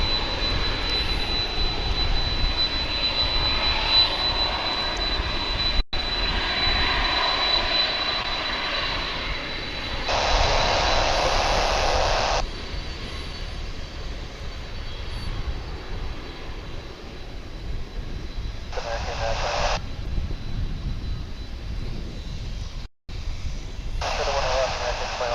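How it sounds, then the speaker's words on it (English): A Frontier airliner begins its takeoff roll at Dallas/Fort Worth International Airport, a steady broadband jet roar from a distance that holds throughout, with radio-like bursts cutting in over it at intervals. "the Frontier flight starts to roll"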